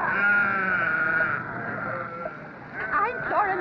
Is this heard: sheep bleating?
yes